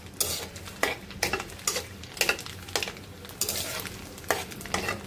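Dried red chilies and garlic frying in mustard oil, a soft sizzle under repeated clinking and scraping strokes of a spatula stirring the pan, close and rhythmic, no voices.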